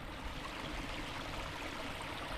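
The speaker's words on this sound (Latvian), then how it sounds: "Straume" A river current flows steadily near beavers' territory, a constant, fairly close rush and babble of water with no voices and no change throughout.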